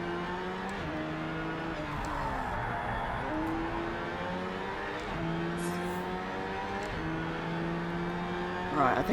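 A Lamborghini Sian in the racing game Project Cars 3 accelerates along a straight, its engine note climbing repeatedly through gear changes, steady and prominent with no talk.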